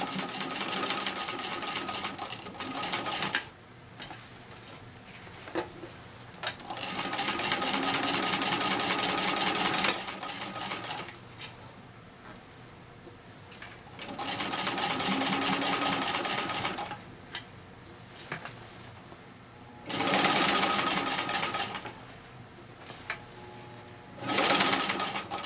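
Singer Model 15-91 sewing machine stitching a patchwork flat cap with a narrow presser foot, running in several steady whirring bursts of a few seconds each, separated by quieter pauses, close and clear with no talking.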